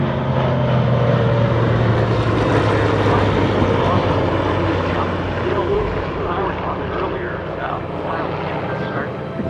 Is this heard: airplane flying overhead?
yes